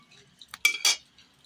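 Dried red chillies, fried in hot oil, are lifted out with a metal utensil, giving a couple of quick clinks and scrapes against a pan with a faint sizzle, brief and close.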